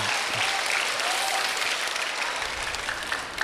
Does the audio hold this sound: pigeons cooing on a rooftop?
no